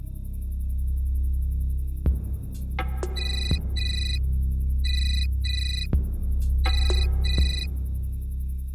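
An electronic telephone ringtone chirps in repeated pulsed bursts over a low, steady background drone, with a few sharp clicks between rings; no one speaks.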